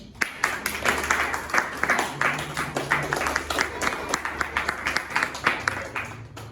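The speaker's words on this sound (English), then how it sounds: "Please give applause for everyone for their dedication" An audience at a student debate contest claps for the teams after their speeches, a moderate run of distinct, fairly close handclaps with voices murmuring beneath.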